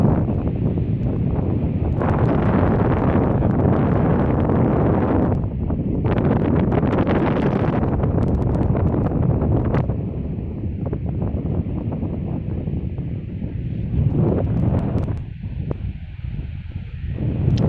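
Strong wind blows across a fishing pier by the sea as the tide comes in, a loud, continuous roaring rush of wind buffeting the microphone, with gusts swelling and easing throughout and no talking.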